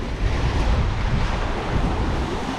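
Choppy waves slosh and churn below a fishing pier while strong wind buffets the microphone in a dense, continuous roar that stays loud and unbroken throughout.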